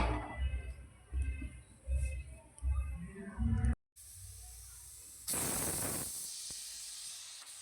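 Steam hisses hard from a pressure cooker of rice on a gas stove, a loud, broad whoosh that rises sharply and keeps going after a short break, following a stretch of muffled thumps and clatter.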